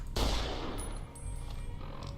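Rifle gunshots from the modded Game Rifle in Fallout: New Vegas, a loud sharp report followed by a long rolling echo and a fainter second shot, with no talking.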